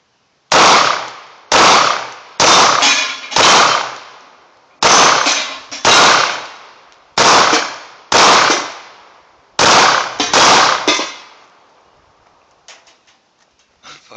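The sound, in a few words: Hi-Point pistol gunshots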